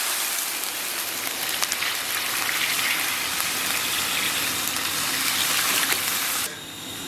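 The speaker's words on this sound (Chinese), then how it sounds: "咱们给锅里边稍微来点水" Water poured into a hot wok of braising pork belly already seasoned with light and dark soy sauce and cola, giving a loud, steady hiss and sizzle that holds for several seconds, then abruptly drops to a softer simmer.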